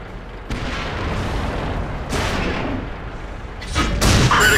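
Artillery fire in World of Tanks: deep, booming blasts over a constant low rumble, a few heavy impacts spaced a couple of seconds apart and a loud one near the end.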